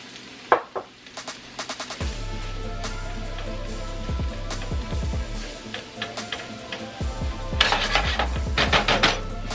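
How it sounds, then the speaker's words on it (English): Boiled carrots tipped into a hot pan of shrimp fried rice, giving a steady sizzle with scattered clinks and scraping stirs, louder bursts near the start and end. "I'm gonna add in the carrots that I boiled up earlier"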